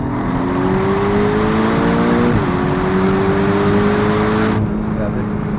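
Porsche 718 Cayman GTS 2.5 engine pulling hard under heavy throttle from inside the cabin, a steady rising drone with one brief dip as it shifts, then continuing to climb, with voices talking over it.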